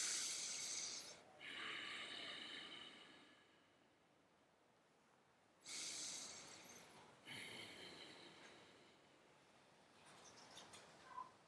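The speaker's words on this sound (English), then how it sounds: "Slightly constrict the back of your throat, activating Ujjayi breathing. It is where you breathe in and out of your nose and make it sound like Darth Vader." Ujjayi breathing through the nose with a constricted throat during a power vinyasa yoga class: close, quiet, hissing breaths that swell and fade in long slow cycles, with no talk.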